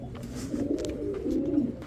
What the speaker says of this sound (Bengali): এখন দেখাবো চুইঠাল বাঘা একটা মাদি কবুতর